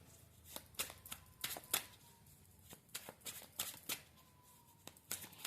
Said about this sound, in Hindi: मेरा मन कर रहा है कि मैं यहाँ से कार्ड निकालूं।